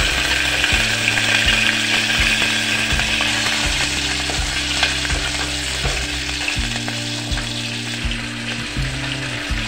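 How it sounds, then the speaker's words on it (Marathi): Finely chopped green chillies hit hot oil that already holds cumin and bay leaves, producing a loud, close, continuous sizzle over regular clattering stirs against the pan, with no voices. "बारीक चिरलेली मिरची टाकत आहे।"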